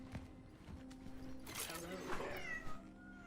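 A cat meows in the video game Cronos: The New Dawn, a faint, short cry amid quiet game ambience while a player talks over it.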